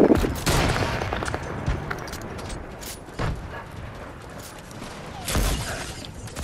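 Rapid bursts of gunfire in an online multiplayer shooter, repeated volleys with loud sharp shots at the start and near the end, steady clatter between them, and faint players' voices now and then.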